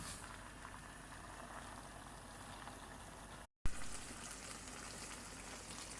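Bell peppers simmer in a pot for a Mexican soup with a steady, quiet bubbling hiss, interrupted by a brief gap and a small bump before the soft sizzle resumes.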